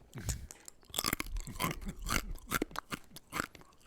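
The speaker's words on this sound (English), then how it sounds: "Here's the crunch test for the audience." Spicy garlic snacks are crunched and chewed close to the mic, with loud, irregular crisp bites filling the clip and no talking.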